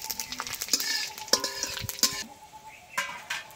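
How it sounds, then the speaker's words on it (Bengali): Bay leaf, dried chili and panch phoron lightly frying in hot oil, with a steady close sizzle broken by sharp clinks and scrapes of a spoon against the pan. "এবার তেজপাতা দিয়ে দিচ্ছি, শুকনো লঙ্কা, পাঁচফোড়ন দিয়ে দিচ্ছি, দিয়ে একটু হালকা করে ভেজে নেব"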